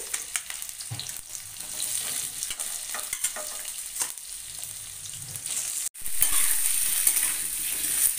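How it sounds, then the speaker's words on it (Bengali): Potatoes being deep-fried in oil with garlic make a steady close sizzle with intermittent stirring scrapes, and the frying swells louder after a brief break near the end. "আলুটাকে কিন্তু ডিপ ফ্রাই করতে হবে।"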